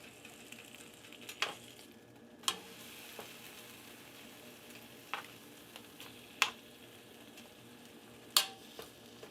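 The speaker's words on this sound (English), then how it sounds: "take half a package of bacon and let's start frying up some bacon" Bacon sizzles and crackles steadily in a skillet, with occasional sharp pops and utensil clicks scattered throughout; no talking.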